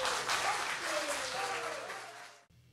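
Audience applause and cheering for a folk band at an evening live music show in a venue, a full sustained wash of clapping with a few voices, tapering off before cutting out abruptly.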